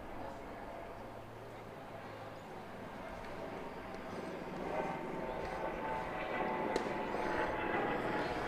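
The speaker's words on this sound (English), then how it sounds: "There's a helicopter. Making all that racket." A helicopter flying overhead during an outdoor varsity baseball game, a broad rumbling drone that swells gradually and stays continuous throughout.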